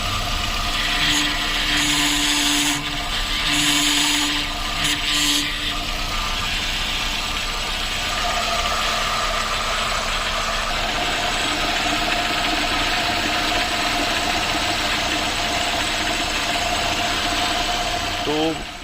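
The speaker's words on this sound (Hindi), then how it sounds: "इस टाइप की आवाज़ आती थी स्टीयरिंग को घुमाने से" A car's power steering system with an oil leak makes a steady droning engine-like whine and hum as the steering wheel is turned, continuous and fairly loud throughout, recorded at night.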